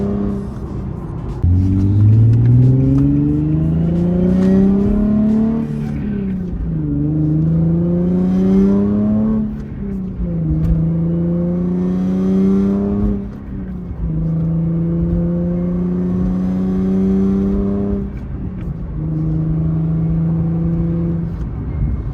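A car with a short throw shifter heard close from inside as the engine revs climb and drop in several steps through downshifts, a steady loud drone with shifting pitch.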